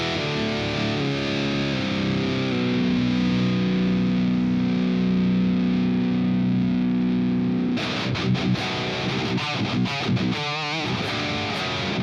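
An electric guitar run through the Hypertune distortion preset from the McRocklin suite chugs heavily with thick sustained distorted tone, then breaks into choppy, gated stabs and fast palm-muted bursts toward the end.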